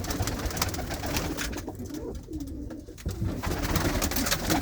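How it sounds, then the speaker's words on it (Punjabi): Pigeons and hens in a flying-breed loft coo steadily amid a busy, noisy background with constant clatter and rustling. "ਇੱਧਰ ਵੀ ਕਬੂਤਰ ਹੀ ਆ ਇਧਰ ਕਬੂਤਰੀਆਂ ਆ ਜੀ"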